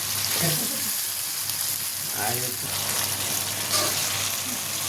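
Crab curry sizzles and fries steadily in a hot pan, a continuous crackling hiss with a few faint stirring scrapes and a low hum beneath.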